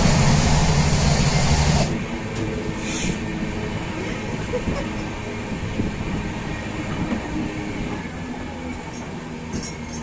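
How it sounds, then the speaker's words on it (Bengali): The Jammu Tawi Express pulls into Panagarh station, its loud rolling rumble easing after the first two seconds into a steadier, softer clatter of wheels that carries on to the end. "আমাদের ট্রেন এখন এসে পৌঁছালো পানাগড় স্টেশন"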